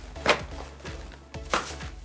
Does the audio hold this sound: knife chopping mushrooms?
yes